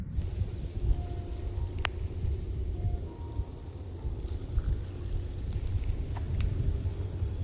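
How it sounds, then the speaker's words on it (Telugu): Rain falls at a solo campsite near Vizianagaram, a soft, steady patter that hisses quietly and evenly throughout, with a few faint distant sounds. "వర్షం పడుతుంది."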